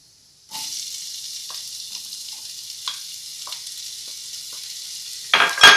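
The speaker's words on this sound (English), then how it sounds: "my garlic is starting to pick up some color. So we're going to add the onions." Onions go into a pan of frying garlic with a sudden loud sizzle that holds as a steady close hiss, with faint stirring taps and a burst of crackling near the end; no talking.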